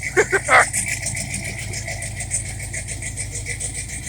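A 1968 Pontiac LeMans engine, freshly rebuilt, idles steadily with a low, even rumble while warming up, after a few sharp bursts at the start.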